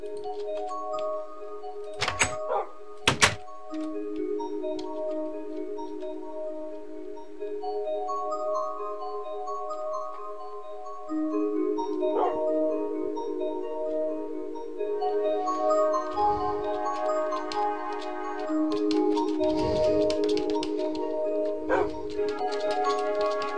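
Music disc playing from a jukebox in a Minecraft-style video game, a soft tonal melody running steadily throughout, with a few sharp clinks and brief game sound effects layered on top.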